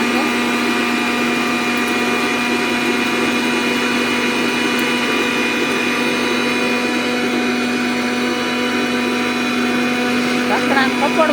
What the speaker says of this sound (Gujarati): મિત્રો આપણે મિક્સર ચાલુ કરી દઈએ